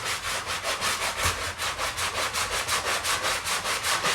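A rotted window sill patched with Bondo filler is sanded with steady, rhythmic back-and-forth scraping strokes, about five per second, close and continuous, with no talking.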